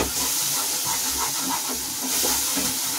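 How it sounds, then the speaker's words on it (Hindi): Gram flour (besan) roasts with spice masala in a pan, giving a steady soft hiss and sizzle with faint scraping from stirring, close and continuous. "इसे मैं भून लूंगी थोड़ा सा और, जिससे कि ये बेसन हमारा अच्छे से भून जाए"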